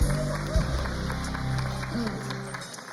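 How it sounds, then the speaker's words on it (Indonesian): Studio audience applause for Mas Kaisang on an Indonesian talk show, a moderate clapping wash beneath voices talking at the start, fading toward the end. "Tepuk tangan buat Mas Kaisang"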